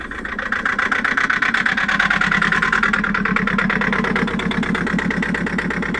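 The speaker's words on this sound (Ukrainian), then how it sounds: "Він робить на трех цилиндрах." A 2000 Nissan Patrol 3.0 diesel engine idles unevenly close by, its loud pulsing chug stumbling in an irregular rhythm, running on only some of its cylinders like a misfire.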